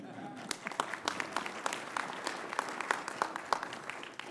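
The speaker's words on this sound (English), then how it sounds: "She deserves a round of applause." Scattered applause from attendees at a joint House and Senate veterans' affairs committee hearing, a modest round of claps in a quiet hearing room, somewhat distant and sparse with a few louder individual claps standing out.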